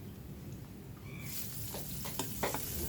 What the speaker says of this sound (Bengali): পেঁয়াজগুলো দিয়ে ভালো করে নেড়ে নিব